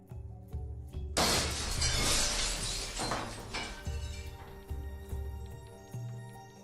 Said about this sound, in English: The echo of shattered glass reverberated through the night